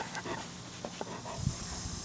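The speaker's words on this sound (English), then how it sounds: "I think that's dog speak for hello." A dog gives a few soft, short vocal noises, faint whimpers and breathy pants scattered across a couple of seconds at close range in a quiet indoor space, with no talking.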